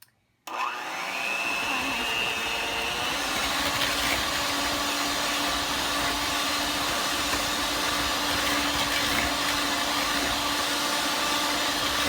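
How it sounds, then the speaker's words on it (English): An electric mixer whirs steadily at high speed through cake batter, a loud continuous motor drone that starts abruptly after a brief silence and holds evenly to the end. "And then we're gonna mix it for 2 minutes again on high speed"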